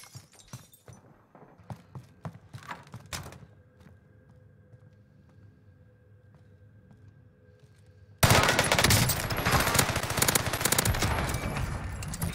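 An unmounted gun fired in Warzone: scattered sharp shots early, a quieter humming lull, then a sudden loud sustained burst of rapid automatic fire that continues to the end.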